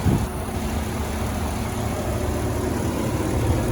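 2015 GMC Yukon Denali engine idling smoothly: a constant low rumble with steady hum, close and even throughout, no talk.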